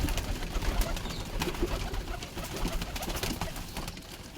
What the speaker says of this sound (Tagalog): Tinanggalan to ng kalapati para hindi sila masikip.